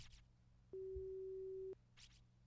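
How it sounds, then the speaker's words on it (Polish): A single steady electronic telephone tone in the horror video game Corpse Party, lasting about a second, clean and moderately loud against quiet background, bracketed by brief faint noises. "Dźwięk telefonu."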